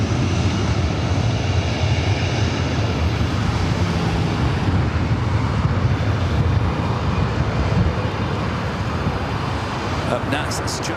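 Airliner landing at LAX on runway 24 right, a loud continuous roar of jet engines with wind rumble, steady and close throughout the whole stretch.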